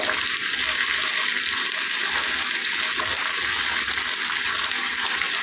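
Water pours into a pot of chopped carrots and potatoes in a home kitchen, a loud, continuous gushing splash that runs steadily with no talking.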